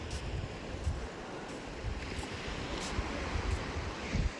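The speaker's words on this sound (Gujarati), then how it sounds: "આ જો દરિયા જો કેવો સરસ છે" Sea waves wash against the shore near the Batheshwar Mahadev temple at Kalsar, a continuous broad surf roar mixed with wind buffeting, steady and fairly loud with small surges throughout.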